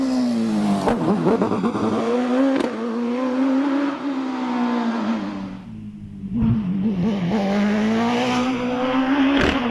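A race car engine at the Prescott hill climb screams at high revs, rising and falling through gear changes with a brief dip, loud and close throughout.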